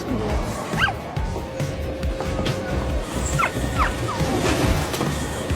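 A dog barks and yips a few times amid a busy indoor scene, short sharp calls scattered over a steady background murmur.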